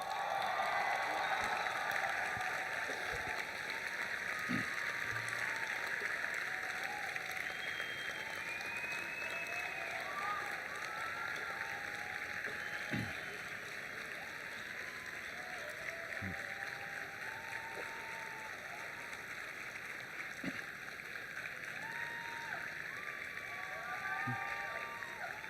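A convocation audience breaks into sustained applause and cheering, the dense clapping filling the whole stretch at a steady, loud level with a slight easing partway through.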